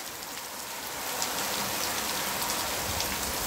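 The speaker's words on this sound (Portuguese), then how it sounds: "Olha o dilúvio que tá caindo aqui, ó." Heavy rain pours down in the Bahia backlands, a dense, steady hiss of drops drumming on surfaces that swells slightly and continues unbroken, with no one speaking.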